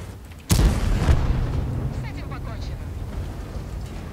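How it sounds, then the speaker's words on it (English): A tank gun fires in World of Tanks, one loud, heavy boom that rings out and trails into a long decaying rumble lasting a few seconds. "We're shooting."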